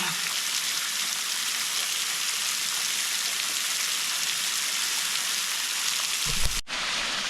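A waterfall at a remote camping spot makes a constant, dense rushing roar that swamps the microphone throughout, with a brief thump near the end.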